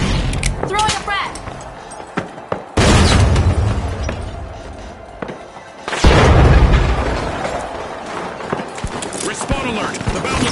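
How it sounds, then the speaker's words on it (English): Frag grenade blasts in The Finals, two loud booming explosions a few seconds apart, each with a broad rumbling roar that slowly fades, amid game noise and scattered smaller pops. "Throwing a frag."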